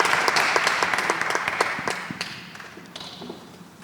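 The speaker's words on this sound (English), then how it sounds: "Please give a very warm applause all the way from Kenya, Uamuzi." An audience at a democracy tech venture event in Cape Town claps warmly, a steady round of applause that gradually fades out.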